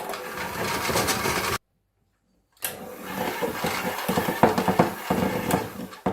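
Vegan frosting of icing sugar and vegan spread being whisked, a steady busy whirring churn broken by a short silent pause, then resuming close and fairly loud.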